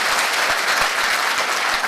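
A hall audience claps loudly and steadily, a dense wash of hands with sharp individual claps standing out, continuous for the whole short stretch with no voices on top.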